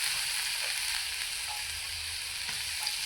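Ginger and garlic fry in hot oil, a uniform hiss and sizzle that holds steady throughout, with faint stirring touches and a soft low rumble beneath.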